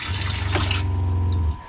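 Water runs from a faucet with a pause button in a van plumbing build, with a steady close gush and a low pump hum beneath it that cuts off abruptly near the end.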